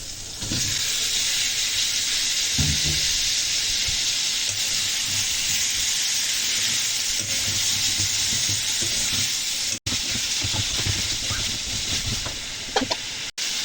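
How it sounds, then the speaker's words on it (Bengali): Chicken and potato pieces fry in a spiced masala in a pan, a loud, continuous sizzling hiss with occasional stirring scrapes and brief breaks, with no one talking. "এখন চিকেন আর আলু একসঙ্গে দিয়ে এই মশলার ভিতরে ভুনে নেবো"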